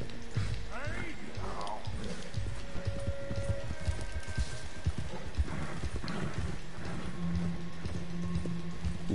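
Horse hooves clip-clop at a steady walking rhythm in Red Dead Redemption 2, close and clear, with game background sounds and a brief whinny-like tone over the plodding steps.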